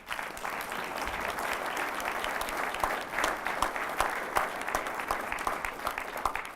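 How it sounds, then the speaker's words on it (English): An audience at a Rotary Club gathering claps in sustained applause, dense and even throughout, with scattered louder claps and faint crowd murmur. "would you all please give them a round of applause"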